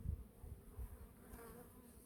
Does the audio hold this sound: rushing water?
no